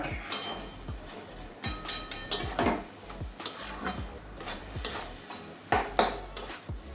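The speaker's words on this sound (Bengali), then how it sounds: "এক চামচ ঘি দিয়ে দিচ্ছি এবার আবারও ভালো করে মিশিয়ে দেবো ঘি গরম মশলাটা" Ghee and garam masala stirred into an egg and cabbage curry in a pan: repeated clinks and scrapes of a spoon against the metal in an uneven rhythm, close and fairly loud, with no talk.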